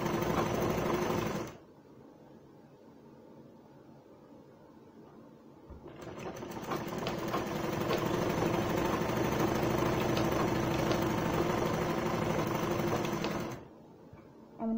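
A sewing machine stitches a gown hem, running loud and steady for about eight seconds after a brief burst, with a quieter pause between the two runs.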